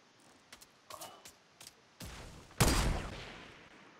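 Gunfire from the Fortnite video game: several sharp separate shots in the first two seconds, then a heavier burst of fire with a long decaying roar, loud and close, with no voices.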